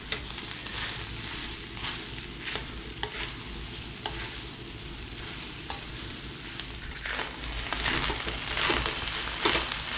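Basmati rice stir-fried in a hot pan for crab fried rice, a steady bed of sizzling and frying with repeated scraping and stirring clatters from a spatula, growing slightly louder and brighter toward the end; no talking.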